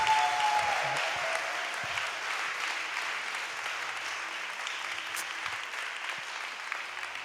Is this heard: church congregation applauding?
yes